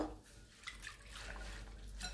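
Something is being rinsed by hand in water during home cooking, with faint sloshing and soft clinking of the vessel. The splashes are quiet and intermittent against a low background hum.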